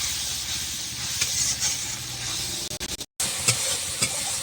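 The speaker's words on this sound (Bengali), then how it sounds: "এখানে মশলাটা কষানো হচ্ছে" Spice paste frying and being stirred in a pan for a Bengali banana-flower curry, with continuous sizzling and repeated scraping strokes and a brief cut near the end.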